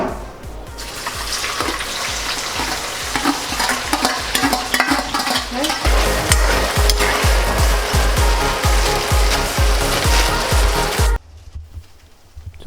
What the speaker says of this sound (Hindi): अभी यही तेल में ये सब सब्जी मिला देंगे।